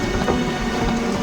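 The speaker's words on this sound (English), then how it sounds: "that we explore as the rain pours" Rain pours steadily with a low rumble of thunder in the A Series of Unfortunate Events video game, a dense continuous wash of water noise filling the short stretch with no voices.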